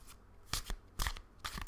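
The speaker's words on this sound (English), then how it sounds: "I have to shuffle like an old lady, like this." Large oracle cards are shuffled by hand in slow, uneven bursts, each a close, crisp slap-and-riffle separated by brief pauses, with no voice over them.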